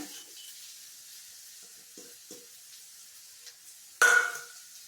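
Chopped dried coconut goes into frying onions for Kerala kadala curry, with soft scraping stirs over a quiet background, then a sudden loud sizzle bursts up and slowly settles.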